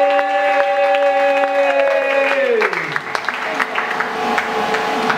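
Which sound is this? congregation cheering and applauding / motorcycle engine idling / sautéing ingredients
congregation cheering and applauding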